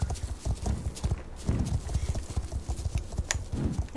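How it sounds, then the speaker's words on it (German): Hoofbeats from a moving horse herd in the online riding game Star Stable Online, steady overlapping clip-clop thuds throughout, fairly close and loud, with an occasional faint whinny. "Ja, die Herde kommt so langsam in Bewegung."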